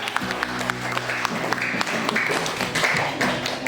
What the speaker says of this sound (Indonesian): Nah, tepuk tangan untuk saya.